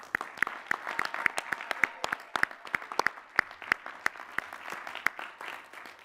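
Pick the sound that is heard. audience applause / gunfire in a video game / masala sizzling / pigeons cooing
audience applause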